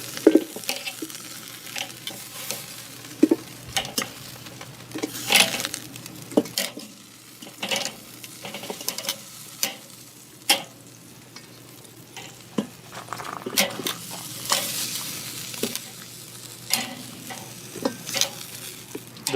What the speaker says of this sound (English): The wings have been cooking for about 10 minutes. Just going to take them all off real quick.